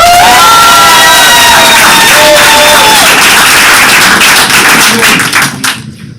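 School board meeting audience erupting in loud cheers, whoops and high-pitched shouts mixed with clapping, sustained at full volume before tapering off sharply near the end.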